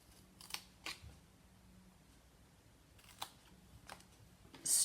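Scissors cut rectangles away while a custom box is being made, giving a handful of sharp, close snips spaced unevenly with quiet gaps between them, and a louder rustle at the very end.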